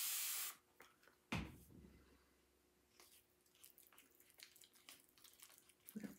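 Water is added to eucalyptus paste that was mixed with an immersion blender: a hissing spray-like burst opens, then a sharp splash and soft wet clatter, followed by faint intermittent splashes and stirring noises in a quiet room.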